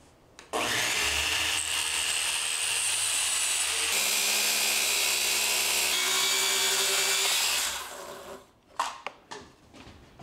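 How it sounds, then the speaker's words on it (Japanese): A circular saw rips through glued wooden boards pressed against a jig, a loud sustained whining roar lasting several seconds, then the blade winds down with a few knocks and clatters at the end. "丸ノコでカットしました。"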